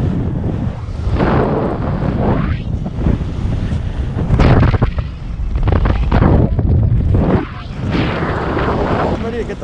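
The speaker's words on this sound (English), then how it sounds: "The wind is so strong right now." Strong, cold wind atop a tall building buffets the microphone in heavy, irregular gusts, loud roaring bursts rising and falling, with a person briefly talking.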